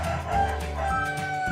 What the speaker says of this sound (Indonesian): Ada suara ayam guys, maklum di kampung.